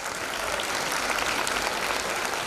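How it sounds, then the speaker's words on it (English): A crowd applauding, dense and steady clapping from many hands, loud and continuous throughout with no voices standing out. "Please give them a big round of applause."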